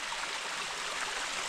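Constant rushing hiss of a waterfall and flowing water in Arizona's Superstition Mountains, steady and even throughout with no talking.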